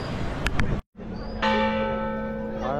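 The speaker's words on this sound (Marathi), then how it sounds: "घंटा वाजायला चालू झाले आहे" A temple bell rings out during a Navratri palanquin procession at the Mahalakshmi Ambabai temple, with a long, sustained metallic tone, preceded by a brief burst of noise and a short silence.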